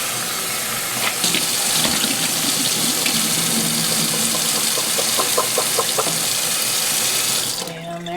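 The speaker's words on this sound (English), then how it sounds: "I just pop it open and just start filling it up with water, and then like shaking it" Tap water runs steadily into an emptied bean can as it is filled and shaken to rinse it, a continuous close splashing rush with sloshing that stops abruptly near the end.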